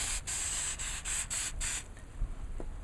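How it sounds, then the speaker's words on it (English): Short hissing bursts of cooking oil spray coating a foil pan, about six quick pumps in a row, close by and fairly quiet, then a few faint clicks. "I'm gonna just coat it with a little bit of cooking spray."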